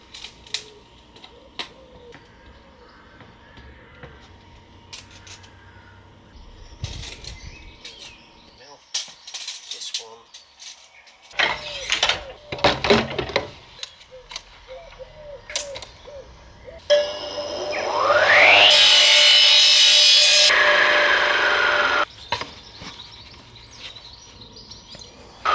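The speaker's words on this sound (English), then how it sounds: "One-shot deal to cut into this pipe" A drain pipe is cut into during a studio build, with a loud, steady cutting burst of about two seconds standing out over scattered clatter, handling knocks and background noise.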